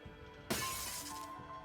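A falling screen in the Honkai Impact video game hits the ground and shatters, one sudden loud crash of breaking glass followed by a bright, lingering spray of debris and ringing fragments.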